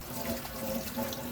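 A natural loofah scrubber is rinsed under a running kitchen tap, giving a soft continuous splash and trickle of water, quiet and close, with no voices.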